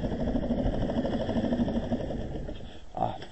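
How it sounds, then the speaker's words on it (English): A cold boat engine idles on a lake with a steady low rumble and faint mechanical vibration, running continuously before a brief louder knock near the end. "The engine is cold, that's why."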